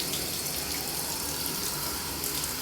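Tap water runs steadily while rinsing hair in a bathroom sink or shower, a close, continuous rushing splash with no pauses and no voices.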